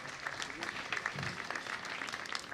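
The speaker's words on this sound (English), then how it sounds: "Let's give a round of applause to our founding chancellor," Applause at a graduation ceremony, a short burst of steady clapping from a large seated audience, moderately distant and even throughout.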